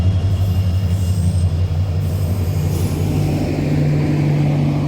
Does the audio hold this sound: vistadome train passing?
yes